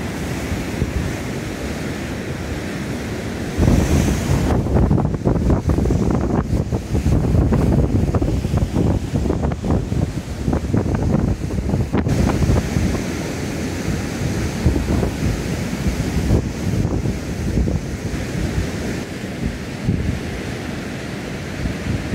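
Strong wind blows across a seawall and seafront on a cold day, with waves surging and crashing nearby in a loud, continuous roar and heavy gusty buffeting on the microphone.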